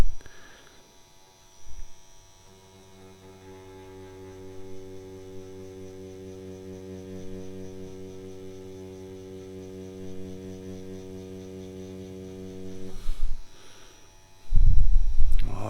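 A Favvosee Nebulla 2 tattoo machine runs with a steady, close electric buzz for about eleven seconds, starting and stopping with handling knocks at either end.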